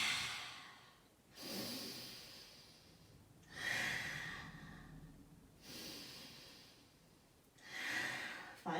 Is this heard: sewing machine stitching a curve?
no